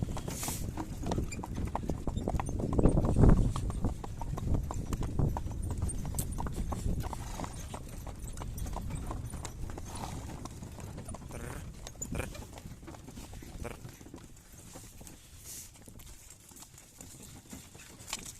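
Horse hooves clip-clop steadily on a hard surface, a continuous rhythmic walking beat of working horses that stays fairly close throughout.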